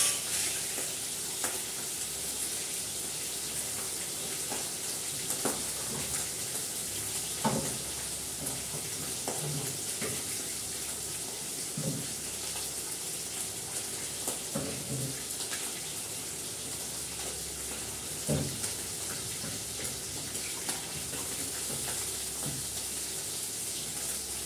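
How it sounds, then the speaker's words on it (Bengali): Tangra fish fry lightly in hot oil in a pan, a continuous close sizzle with occasional soft spatula taps and stirring scrapes spread through the whole stretch. "ট্যাংরাগুলো জাস্ট একটু হালকা করে ভেজে দিচ্ছি, বেশি ভাজবো না"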